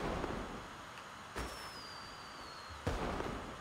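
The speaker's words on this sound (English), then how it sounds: "I need to lower the volume because the fireworks are scaring me." Fireworks in the game Genshin Impact, two sharp bursts a second and a half apart over a faint steady background, with a thin whistling tone trailing between them.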